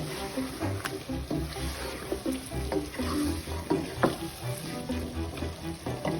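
Tomatoes are added to chicken karahi in a hot pan, giving a steady close sizzle broken by repeated stirring scrapes and thumps.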